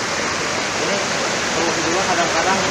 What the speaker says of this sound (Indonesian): Airnya cukup deras